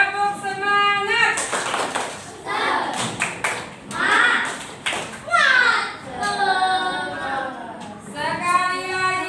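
A group of teacher-training participants repeats a rhythmic 'tepuk semangat' spirit clap, sharp patterned handclaps in quick clusters mixed with chanted voices and speech.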